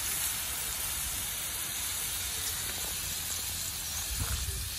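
Mushrooms and sausages frying for a breakfast in a caravan, a steady close hiss and sizzle held at an even level throughout, with no talk.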